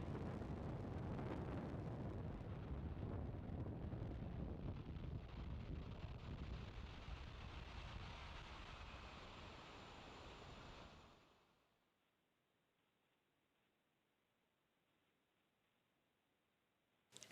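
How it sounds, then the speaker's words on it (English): A SpaceX Falcon 9 rocket lifts off from Slick 4E at Vandenberg Space Force Base on the NROL-153 Starshield mission, a deep, rough roar that rumbles steadily for about eleven seconds before cutting off abruptly into silence. "Liftoff of the Falcon 9"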